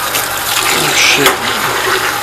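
Water gushing hard and steady from a detached water line hose while cleaning a 2000 lb Scotsman Prodigy ice machine, a loud continuous rush with a brief splash partway through.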